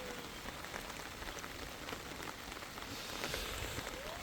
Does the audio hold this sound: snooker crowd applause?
no